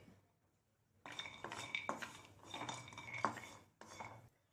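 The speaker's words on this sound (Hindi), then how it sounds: "पैन में हम 6 बादाम और 6 काजू भून लेते हैं।" Six almonds and six cashews are stirred in a pan to roast, giving faint close scraping and clinking of a utensil against metal in irregular strokes.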